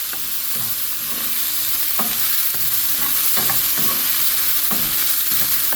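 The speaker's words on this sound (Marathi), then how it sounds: "सो फायन चॉप आनियन गेल्लो हांवें सोते करून घेता" Finely chopped onion sautéing in oil for Goan-style cooking, a bright constant sizzle with rhythmic spatula scrapes and stirs every half second or so, close up and without talk.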